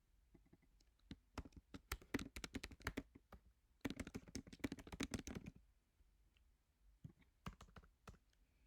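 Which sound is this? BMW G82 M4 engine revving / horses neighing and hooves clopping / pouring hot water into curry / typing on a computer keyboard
typing on a computer keyboard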